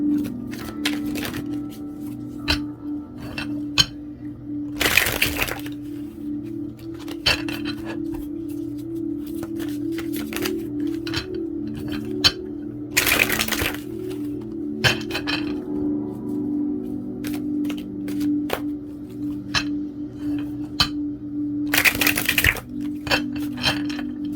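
Tarot cards being shuffled in several short riffling bursts, separated by quieter handling noise over a steady low hum.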